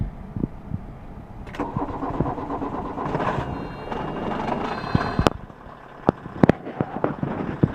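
A 1982 Volkswagen Rabbit diesel pickup cranks and starts after glow plug warm-up, the starter churning steadily before the engine catches and settles into a rough, clattering run with sharp ticks and knocks close by.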